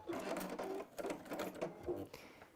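A domestic sewing machine stitches along opened-out fabric binding on a textile tablet cover, running in steady continuous bursts with brief pauses, close and moderately loud.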